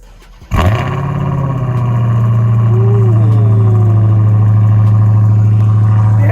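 A 2020 Dodge Charger Hellcat Widebody cranks and fires up in snowy weather, then settles into a loud, close, deep-rumbling idle that holds steady with a brief rise in pitch.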